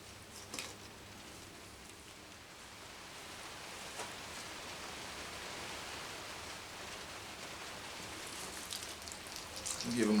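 Water pouring steadily onto freshly transplanted tomato plants in a tray, a soft continuous hiss and patter like light rain, quiet and even, growing slightly louder toward the end.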